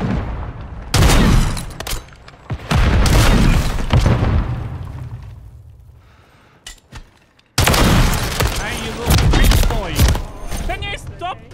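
DMR rifle gunfire rings out in Call of Duty MWIII team deathmatch, loud bursts of shots in several clusters separated by a quieter gap, with a player talking at times.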